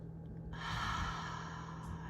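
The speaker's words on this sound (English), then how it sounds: "Breathing in, trusting the inhale." A single deep breath during a guided breathing exercise, with a soft inhale giving way to a longer, airy sighing exhale, faint and close in a quiet room.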